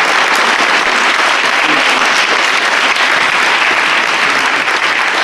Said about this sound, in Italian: Grazie Sigfrido Ranucci, un applauso.